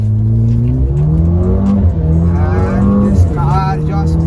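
Mercedes-AMG GLA 35 accelerating hard toward 100 km/h, its engine note climbing steadily in pitch with loud, close exhaust rumble and no talk.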